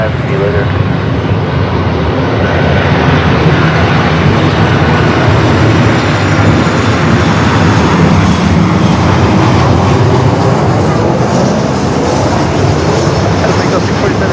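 Philippine Airlines Boeing 777-300ER departing Los Angeles for Manila, a loud, steady jet engine roar sustained throughout with broad rushing noise, with no voices over it.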